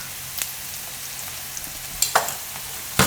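Turmeric and coriander-cumin powder frying in a pan for a Gujarati green bean curry, a soft continuous sizzle broken by a few sharp stirring clicks and scrapes, no voices.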